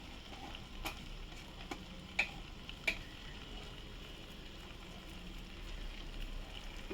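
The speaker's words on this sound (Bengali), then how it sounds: "একটু নেড়ে দিলাম" White sauce pasta topped with chilli flakes and grated cheese being stirred in a pan: a few sharp spoon clicks and scrapes stand out over a faint, continuous soft sizzle, quiet and close, with no talking.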